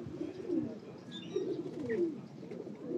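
Pigeons coo nearby in a few soft, throaty, repeated calls over a quiet background, with a faint voice or chirp mixed in.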